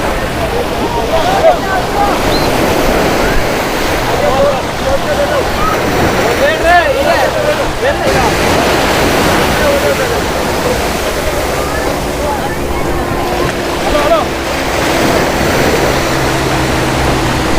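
A boat engine runs on the sea at Candolim beach, Goa, a steady rumble blended with rushing water and wind, while people talk over it.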